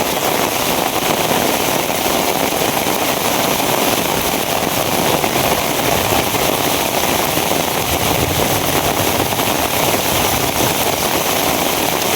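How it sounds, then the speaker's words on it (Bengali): Heavy rain pours steadily in a rural Bangladeshi home during cooking, a dense, constant broadband hiss that stays loud and unbroken throughout with no voices. "এই রে বৃষ্টি রে বৃষ্টি,"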